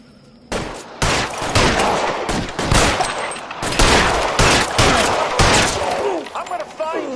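Rapid gunfire from a shootout in the video game L.A. Noire, dense bursts and volleys filling the scene continuously after a brief quiet start, loud and close.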